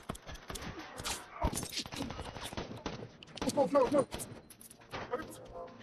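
Gunfire from a gangster action film shootout crackles in a dense burst of sharp reports around the middle, mixed with shouting voices and background score, with scattered shots before and after.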